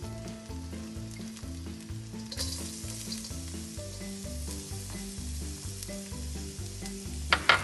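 Ginger and garlic sizzle steadily in hot oil in a pan for a Szechuan-style chicken stir fry, a close, continuous frying hiss with a brief louder spurt near the end and no speech.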